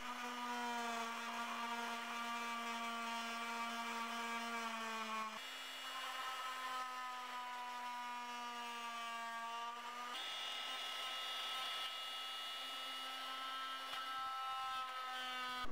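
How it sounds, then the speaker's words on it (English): A multi-tool cutting an opening in a plastic fairing on a GASGAS 700 motorcycle, a steady high-pitched oscillating buzz held in long passes, with brief pauses and shifts in pitch as the blade bites. "So you take either a very sharp knife or we use a multi-tool to cut it out."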